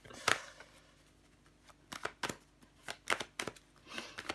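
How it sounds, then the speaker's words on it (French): Tarot cards laid down one after another on a table, making a series of crisp slaps and soft sliding flicks at an uneven rhythm, close and fairly quiet. "Je vais recouvrir des cartes."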